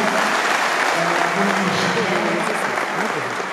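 Steady, loud audience applause at the Youth Connect Awards ceremony in Rwanda's Southern Province, continuous for a few seconds with dense clapping that barely dips, with a faint voice underneath.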